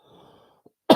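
A single short, close cough after a drag of tobacco breaks out at the very end, following near silence and a faint exhale.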